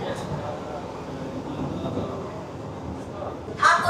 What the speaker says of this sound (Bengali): ট্রেন আমাদের ঢুকছে বনগাঁর পরবর্তী স্টেশন ঠাকুরনগর স্টেশনে